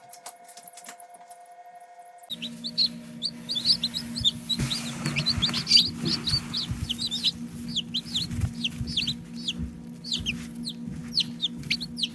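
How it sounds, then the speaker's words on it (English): Newly hatched chicks from farm-fresh eating eggs peep in a dense, continuous chorus of high chirps, close by, over a steady low hum after a quiet opening; no one talks. "Chicks are cute. Everybody likes chicks, right?"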